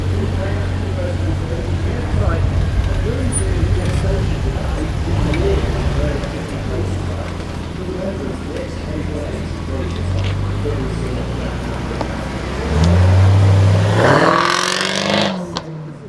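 Jaguar F-Type sports car with a 3-litre V6 at an enthusiasts' club summer festival, a low engine note under steady talk, then a loud rising rev near the end that quickly fades.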